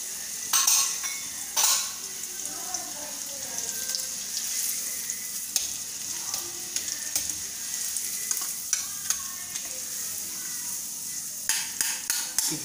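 Raisins fry in a pan for poha chivda, a steady sizzle broken by sharp metallic clinks and scrapes as a spoon stirs them.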